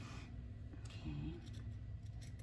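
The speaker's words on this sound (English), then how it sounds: "I can use the scissors and the rest of it." Scissors snip through a junk journal cover, producing a few faint, quiet cuts close by in an otherwise hushed room.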